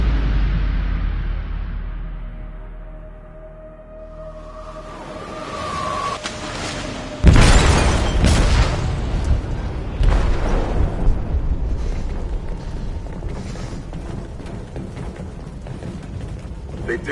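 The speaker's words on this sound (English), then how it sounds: "They detonated an explosive in the hold" A video game explosion in a ship's hold breaks out suddenly with a loud, close blast and heavy rumble, followed by sustained crashing debris and a second burst, after a quieter mechanical build-up.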